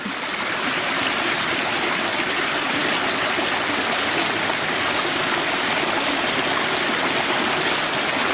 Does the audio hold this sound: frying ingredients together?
no